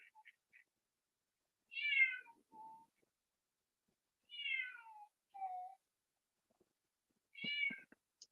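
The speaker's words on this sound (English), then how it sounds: "It's my cat. It's at the door." A cat meows at a door four times in short, separate calls with quiet pauses between, fairly close and clear, with no talking.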